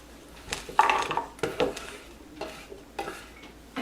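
Cabbage leaves are laid into a cooking pot, making soft rustling thumps and light scraping knocks against the pot in a few separate bursts, quiet and close, with no speech.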